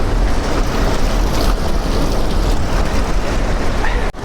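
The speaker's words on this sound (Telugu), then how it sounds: "ఇక్కడ వాటర్ ఫాల్స్ పడుతున్నాయి కదా అక్కడ నుంచి." Saraswati river waterfall at Mana village, a dense, steady roar of rushing water that fills the whole clip, loud and broadband with some wind buffeting.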